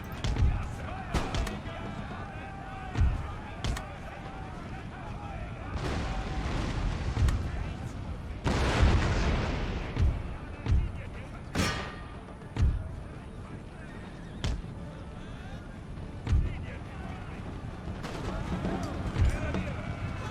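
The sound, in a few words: cannon artillery fire in the video game Empire: Total War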